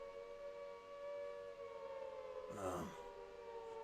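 Faint, distant wailing air raid sirens hold steady tones under low background noise, with a brief rustling burst near the end.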